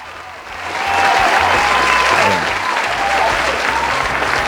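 A studio audience claps loudly on a talk show, a dense, sustained wash of applause that rises early and holds steady, with a single spoken word from the host near the end.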